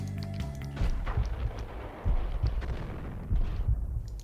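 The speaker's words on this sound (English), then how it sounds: "Perfect grenade. That should have killed them." Grenade blasts in the video game Max Payne, three heavy low booms spaced about a second apart, each followed by rumbling debris over a dense battle din.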